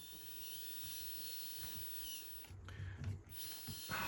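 Thin, steady whine of a small electric motor in a Jiabaile 3602 mini RC Ford F150 monster truck held at lowest throttle, faint and even, with a short burst of louder handling noise partway through.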